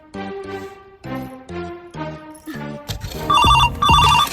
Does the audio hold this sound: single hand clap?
no